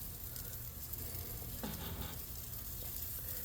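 Butter sizzling and flaring on a barbecue grill while garlic crab legs and shrimp smoke, a steady quiet hiss with a brief crackling flare-up in the middle.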